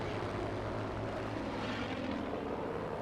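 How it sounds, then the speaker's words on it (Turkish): Steady, loud propeller airplane engine drone from the Battlefield V video game as the plane climbs slowly, a continuous broadband roar with no talk over it. "Bu uçağın yukarı tırmanışı çok yavaş ya"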